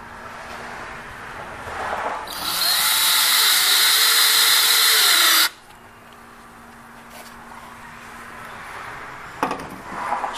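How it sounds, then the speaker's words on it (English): A power sander works on a wooden bench in one loud, steady whine of about three seconds that cuts off sharply, with quieter handling sounds before and after. "Sanding again"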